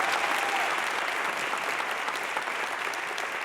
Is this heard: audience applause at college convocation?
yes